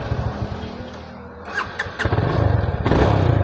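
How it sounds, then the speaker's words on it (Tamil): A 250cc fuel-injected motorcycle with a rev problem starts up: the starter cranks briefly, then the engine catches and settles into a loud, close, steady idle with rapid even pulsing. "இப்போ நான் பைக்கை ஸ்டார்ட் பண்ணுறேன்."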